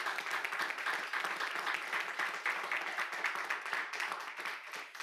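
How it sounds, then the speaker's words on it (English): Applause from an audience at a mayoral childcare and budget announcement: steady, fairly faint clapping from many hands that keeps going for several seconds and tapers slightly at the end. "big round of applause."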